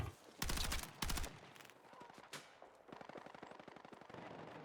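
Battlefield 6 gunfire: two loud rapid automatic bursts up front, then scattered single shots and a long stream of quieter rapid fire further off, with faint game mechanisms between.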